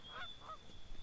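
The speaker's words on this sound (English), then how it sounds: "Geese." Geese honking in the RuneScape video game near Lumbridge, a few quick nasal honks close by, fading into quiet ambience.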